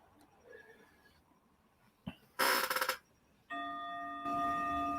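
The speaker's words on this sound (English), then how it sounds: "Here's the bell." A meditation bell is struck after a short rustle and clatter, its clear, sustained ringing tone carrying on steadily and softly to the end.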